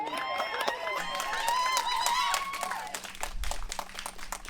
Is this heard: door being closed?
no